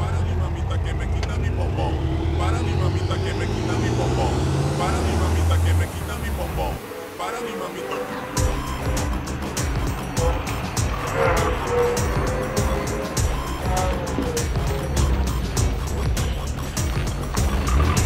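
A car engine runs loudly and steadily, revving as the vehicle arrives, with a brief lull before the motor sound resumes; music and voices sit over it.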